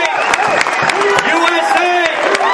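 A crowd at a political rally claps and cheers loudly, with many voices shouting and chanting together in rising and falling calls close by.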